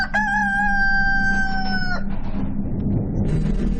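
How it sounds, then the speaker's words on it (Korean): A rooster crows once, loud and close, in a long drawn-out call with a steady low hum behind it, then the call cuts off and leaves rustling background noise. "정막을 깨는 한 수탉의 울음소리"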